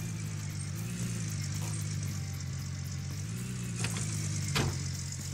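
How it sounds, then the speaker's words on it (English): Car engine idling in a video game, a steady low rumble with a constant hiss over it that runs through the whole stretch, plus a couple of faint clicks near the end and no voices. "I forgot to turn off the engine"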